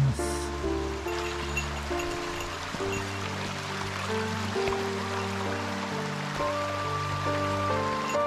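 A mountain stream flows beside a hiking trail on Dokko-san in Shinshu, a steady close rush and trickle of water running throughout, with faint tonal sounds layered over the continuous wash.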